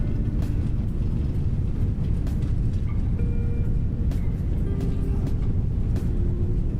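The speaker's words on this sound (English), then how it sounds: "Reversers engaged." A roaring, steady wash of broadband noise fills a cabin as an A320neo's thrust reversers run during the landing roll, loud and continuous with faint tonal whines above, and no speech.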